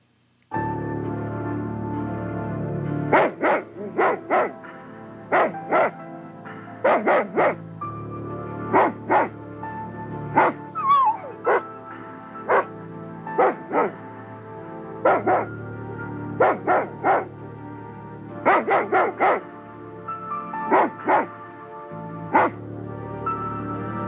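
A dog barks repeatedly in short clustered bursts, loud and close, with brief pauses between groups of barks and no talking.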